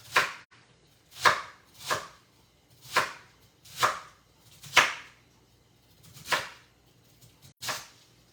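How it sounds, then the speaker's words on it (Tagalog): A knife chops through cabbage on a cutting board in the kitchen while pancit is being cooked, giving about eight sharp, close, evenly spaced cuts spread over several seconds. "While I am cooking cutting my cabbage."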